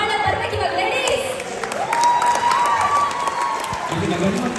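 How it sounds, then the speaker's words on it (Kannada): An audience at a Kannada Rajyotsava stage performance claps, men joining in, producing steady applause throughout with a voice speaking over it. "ಇಲ್ಲಿನ ಗಂಡ್ಮಕ್ಳು ಕೂಡ ಚಪ್ಪಾಳೆ ಕಟ್ಟಿದ್ದಾರೆ"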